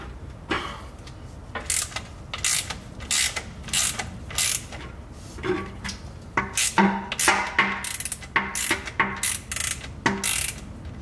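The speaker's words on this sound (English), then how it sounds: "And then remove the drain bolt." A ratchet wrench loosens the oil drain bolt on a 2015 to 2020 Cadillac Escalade during a service, clicking close and loud in repeated quick bursts separated by short pauses.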